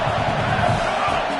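A home stadium crowd at an Oregon vs Michigan football game cheers and roars loudly and continuously, a dense wash of voices with some shouts rising from it.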